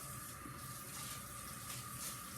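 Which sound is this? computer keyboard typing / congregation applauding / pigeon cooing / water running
water running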